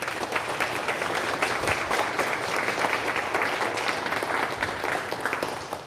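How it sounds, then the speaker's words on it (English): Moms, dads, friends and family applauding at a pastry arts competition awards ceremony, a sustained, lively round of clapping from a sizable crowd that holds steady for several seconds. "let's give them a round of applause."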